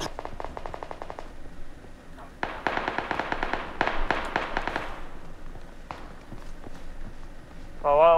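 Footsteps in a multiplayer shooter game, rapid bursts of close, crisp steps in clusters with short pauses between them, fairly loud, ending with a brief tonal game sound.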